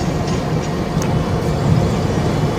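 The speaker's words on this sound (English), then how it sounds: "now arriving in is 2 Whiskey 13, the 1201 Greater Anglia service, terminating in Cambridge" Greater Anglia train pulling into Ipswich station on the Great Eastern Main Line, a steady, loud low rumble of engine and wheels close by, with no talk over it.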